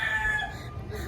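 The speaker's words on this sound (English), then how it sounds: "The roosters are crowing." Roosters crowing in Key West, with street noise around them. A drawn-out crowing call stands out near the start, then fades, and a low rumble of traffic or wind runs underneath throughout.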